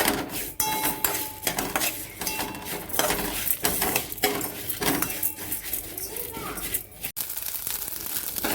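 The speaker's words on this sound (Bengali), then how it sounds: "এগুলো সব একসঙ্গে ভালো করে ভেজে নিয়ে ডাস্ট করে নিলেই হয়ে যাবে ভাজা গুঁড়ো রেডি" Whole coriander, fennel, dried chilli and fenugreek are dry-roasted in a pan, a busy rattling, scraping clatter of spoon against seeds and metal that runs almost continuously, with a voice underneath.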